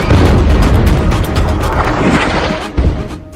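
Artillery cannon fire in the Gaza war comes as heavy, loud booms and rumbling blasts that run into each other, with a sharper report near the end.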